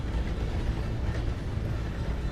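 A steam train rumbles along in the video game Red Dead Redemption 2, a dense, continuous low roar with a steady rolling texture, close and loud throughout.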